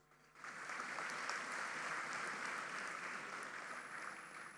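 Graduation ceremony audience bursting into applause after a short quiet moment, a steady, dense wall of clapping from a large crowd in a hall that holds evenly and then begins to fade slightly.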